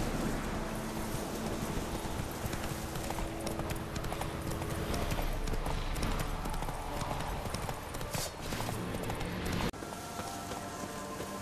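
Hooves of the horse Roach clip-clop steadily in The Witcher 3, a dense rhythmic trot under ambient game sound and possible rain, continuing without pause before a brief shift near the end.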